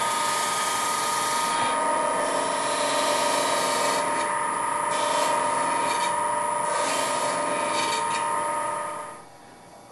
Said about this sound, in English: now I'm going to switch to a 1/4-inch spindle gouge. I'm just going to round off the corners here a little bit,